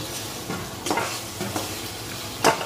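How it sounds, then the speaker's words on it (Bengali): Spices and chopped tomato fry in a pan for a Bengali fish-head muri ghonto, with a soft continuous sizzle broken by several scraping stirs, the last one loudest. "এবারে টমেটোর সাথে মশলাকে হালকা ভেজে নিচ্ছি।"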